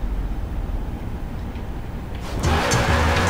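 Supercharged 6.2-litre V8 drift car in Forza Horizon 4 idling with a low steady rumble, then swelling into a louder, harsher rev near the end.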